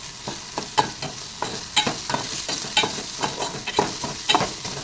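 Bitter gourd and tomatoes fry for a curry in a pan under a constant sizzle, with frequent rhythmic clinks and scrapes from stirring close up and no talking.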